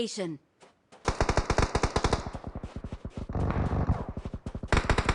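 Rapid automatic gunfire in PUBG Mobile, loud and close, with dense bursts of shots running through most of the stretch after a brief quiet start.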